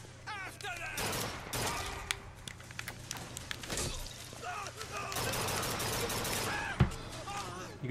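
Rapid weapon fire in BioShock Infinite, with bursts of shots and clattering impacts spread across the stretch, mixed with game noise and a voice talking over it.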